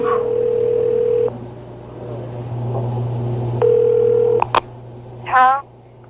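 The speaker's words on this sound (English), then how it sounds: "Tony places a call to the pay station number." Touch-tone telephone keypad dialing to a pay phone: two long steady tones, several short beeps, then a warbling ring burst near the end, all heard through a phone line with background hum.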